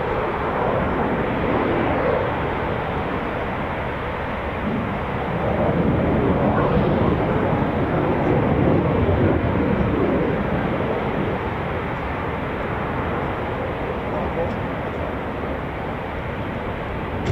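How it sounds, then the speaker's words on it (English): A Eurofighter Typhoon FGR4 jet going around at an RAF airfield, a loud continuous broadband roar that swells in the middle and holds steady throughout. "Go around from this Typhoon here"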